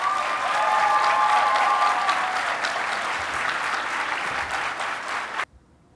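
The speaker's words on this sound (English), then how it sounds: "can you please give those wonderful people a round of applause?" A conference audience at a youth leadership presentation breaks into loud, sustained applause, dense clapping filling the hall for over five seconds before stopping sharply; a few cheers ride on top early on.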